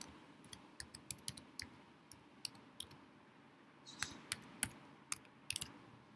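Password being typed on a computer keyboard: a run of light, crisp key clicks in uneven bursts, close and quiet with no talking.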